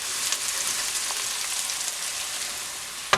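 Whole spices such as coriander, fennel and cumin frying in hot oil for a Sri Lankan pork fry, giving a steady close sizzle with a small clink at the end.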